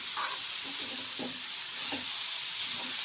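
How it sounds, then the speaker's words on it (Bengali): A curry of young areca palm shoot and dried fish sizzles in a pan under a steady bright hiss, while a few soft scrapes and taps mark the stirring. "তো চলো এখন নাড়াচাড়া করে নেবো সুন্দর করে"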